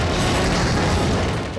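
Rapid bullet fire in Strikers 1945 Plus on Neo Geo forms a dense, continuous loud barrage of blended shots and rumble, steady throughout the short burst.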